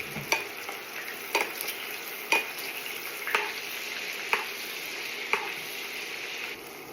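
Salmon fillet frying skin side down in butter in a pan, a steady close sizzle broken by about six sharp, evenly spaced taps, with no voices.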